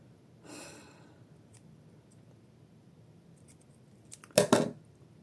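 A couple of quick, crisp snips of scissors cutting dental floss near the end, after a soft breath in an otherwise quiet room.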